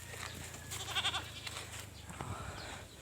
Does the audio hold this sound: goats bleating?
yes